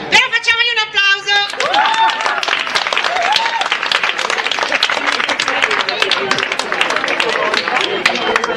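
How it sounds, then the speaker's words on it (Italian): Audience clapping at the closing show of a summer theatre course in Ottone, a dense steady burst of applause filling the room for several seconds after a short spoken lead-in. "Però facciamogli un applauso."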